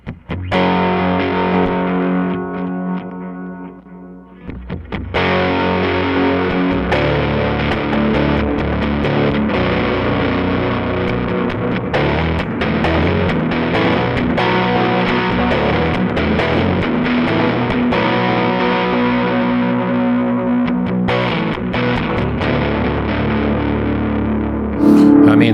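A Danelectro 66BT baritone electric guitar through a distorted amp on the lead channel chugs thick, low riffs up close, sustaining with a dense, gritty tone for the whole stretch.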